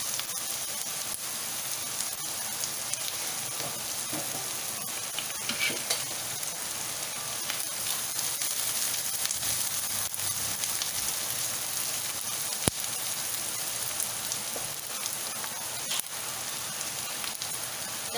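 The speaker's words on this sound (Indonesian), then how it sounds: "Kita tumiskan sampai naik bau." Bay leaves and spices sautéing in hot oil in a pan, giving a steady, even sizzle that runs unbroken throughout with faint clinks now and then.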